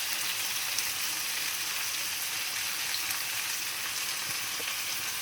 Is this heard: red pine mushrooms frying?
yes